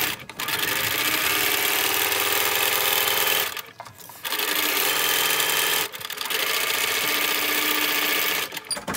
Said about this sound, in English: Let's go ahead and sew right sides together all the way